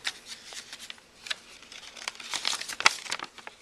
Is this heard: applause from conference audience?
no